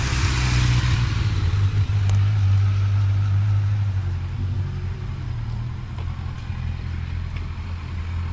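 A car pulls away from a standstill at a basic driving course, starting between green and red traffic cones. Its steady, close, low engine rumble shifts in pitch and eases slightly partway through.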